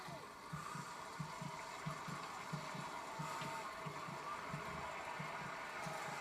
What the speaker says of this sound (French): On entend le cœur qui s'accélère quand même